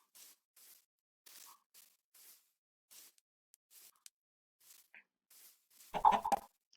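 Faint, sparse Minecraft chicken clucks come in short bursts over near silence, ending in a louder flurry of squawking.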